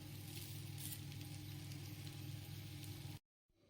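Mackerel pan-frying on a banana leaf with little oil: a close, steady sizzle and crackle that holds evenly for about three seconds, then cuts off abruptly into near silence, with no voices.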